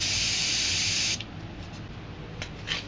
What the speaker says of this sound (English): Spray some white